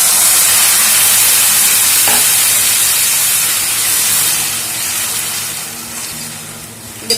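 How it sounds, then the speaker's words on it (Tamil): A steady, loud sizzle and hiss of tamarind water hitting a hot pan, gradually settling into a softer bubbling simmer. "இந்த புளி தண்ணி ஒரு 2 minutes கொதிக்கட்டும்."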